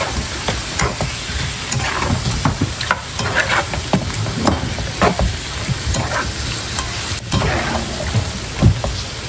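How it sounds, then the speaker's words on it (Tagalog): Chicken stewing in coconut milk with papaya in a pan, stirred with a utensil that scrapes and knocks through a steady sizzle, close and fairly loud; a voice speaks briefly. "Hahaluin ko lang po ulit."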